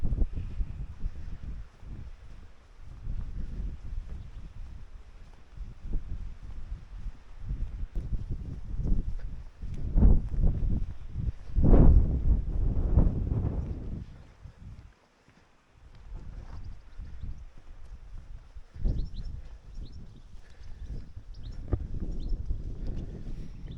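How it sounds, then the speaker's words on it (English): Gusty outdoor wind on a walk near a reservoir, buffeting the microphone in uneven surges that rise and fall, with a strong burst in the middle followed by a brief lull before the gusting returns. "It's not like constantly windy. It keeps coming in gusts."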